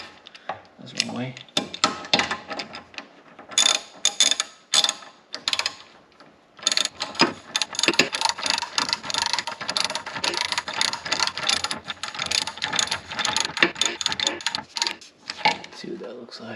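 A ratchet wrench works on a ball joint on a 2003 GMC Sierra, giving rapid, close metallic clicking in bursts with short pauses between strokes.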